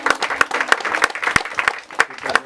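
A church congregation claps in a quick, uneven patter of close hand claps, brief and moderately loud.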